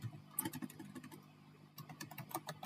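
Computer keyboard typing as a name is entered: rapid, uneven clusters of crisp key clicks, close and fairly quiet, with a brief pause midway before the tapping resumes, no voices.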